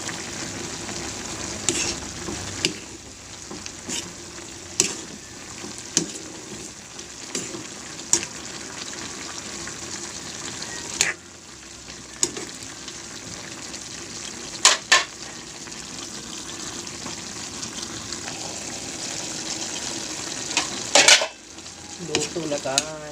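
Mixed vegetables frying in a pan, a steady sizzle throughout with occasional clacks and scrapes of a utensil stirring against the pan.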